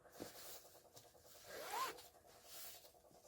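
A zipper on a handmade triangular buckwheat-hull pillow, a traditional Korean goebul craft piece, rasps in a few short close strokes, with one brighter pull near the middle and faint handling noise around it.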